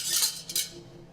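A metal bar spoon clinks against glassware and metal as it is picked up while a Manhattan cocktail is mixed with rye, two short bright rattles close by with no talking.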